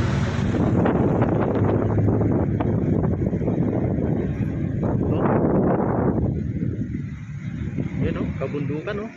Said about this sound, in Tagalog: Hangin na talaga guys.